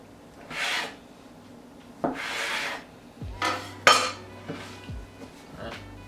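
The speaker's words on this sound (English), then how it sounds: "We're going to take your dough scraper," A dough scraper cuts and scrapes through homemade bread dough on a work surface, giving several short, separate scraping strokes, close and fairly quiet, with no speech.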